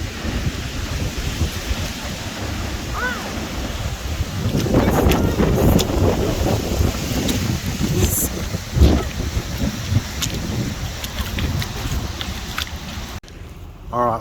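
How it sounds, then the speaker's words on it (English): Gusty wind buffets an outdoor microphone on an Australian snow trip, a continuous loud rumble that swells and eases throughout, with brief indistinct voices and a short drop near the end. "it's windy"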